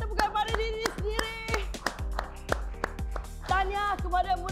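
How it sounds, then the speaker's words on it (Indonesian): A fitness class on an educational TV exercise show claps for themselves at the end of a workout: scattered, uneven hand claps in a room, mixed with voices and background music. "semua berikan tepukan pada diri sendiri"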